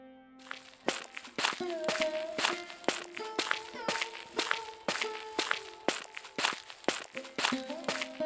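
Steady footsteps crunch along an unpaved village dirt road, a regular walking rhythm of close, crisp steps with faint tonal sounds in the background.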